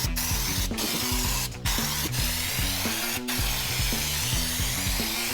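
Undercoating hisses from a spray gun onto a truck, a loud continuous close-up spray broken by a few short pauses, with rhythmic mechanical pulsing underneath and no talk.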